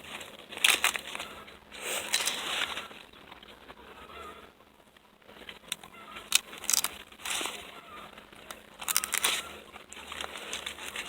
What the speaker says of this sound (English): So I just peel it down, kind of peel down the leaves.